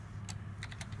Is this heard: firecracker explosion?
no